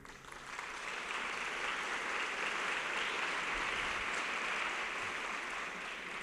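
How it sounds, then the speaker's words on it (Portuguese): An audience at a provincial mental health and addictions congress applauds the academic committee, producing sustained, even clapping from a large hall that swells in quickly and holds steady for several seconds without talk. "para los que pido un aplauso."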